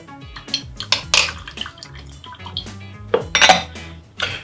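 Milk and cream being mixed in a pan, with clinks and scrapes of a utensil against metal cookware and light liquid sloshing, close and irregular.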